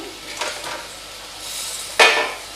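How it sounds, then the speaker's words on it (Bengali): Rohu fish pieces drop into a boiling curry of potato and cauliflower in a pan, giving a soft splash and a bright sizzle burst near the end after quiet simmering and a light utensil clink. "এবার মাছগুলো দিয়ে দেবো আমি,"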